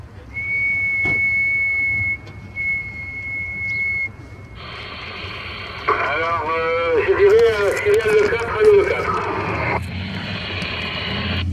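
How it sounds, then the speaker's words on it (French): A whistle sent over a CB radio during a mobile antenna test, heard as steady high tones broken into short bursts with radio hiss, then a warbling, wavering whistle over static as the transmission opens. "je te fais la sifflette."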